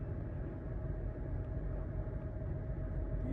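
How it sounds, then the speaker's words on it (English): A loud semi truck passing close by, heard as a steady low rumble and engine drone that stays strong throughout, with no talk over it. "that truck was loud. The truck was pretty loud."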